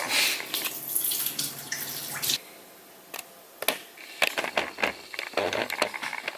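Water splashing and trickling while being worked into sourdough dough, loud gushes at first, then a pause and a string of wet squishes and splats near at hand.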